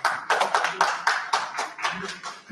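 Audience clapping for panelists at the close of a conference session on air pollution and climate change, a sparse group of hands producing distinct uneven claps, fairly close and alone without talk.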